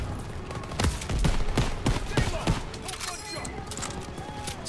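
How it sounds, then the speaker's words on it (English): Gunfire in the World War II shooter game Call of Duty WWII, Operation Cobra mission: a burst of sharp rapid shots in quick succession, loud and close, with a voice talking over it. "Where the fuck are you shooting me from?"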